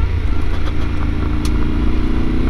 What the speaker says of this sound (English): First time on gravel on a big bike.